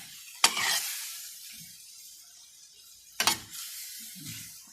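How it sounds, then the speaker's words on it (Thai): Mixed vegetables hit a wok with a little hot oil, giving two sharp sizzling bursts that fade into a soft, steady frying hiss, heard close with no talk. "ใส่น้ำมันน้อยนิดนะคะ แล้วก็ผักนะคะเป็นผักรวมไปเลยนะคะ"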